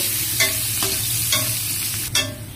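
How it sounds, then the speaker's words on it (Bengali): Chopped onions fry in hot oil for pulao with a constant close sizzle, punctuated by about four brisk scraping strokes as a spoon stirs them around the pan. "পেঁয়াজ কুচি দিয়ে দিলাম। এখন সুন্দর করে এটাকে ভাজা ভাজা করে নেব, বাদামি কালার করে নিব।"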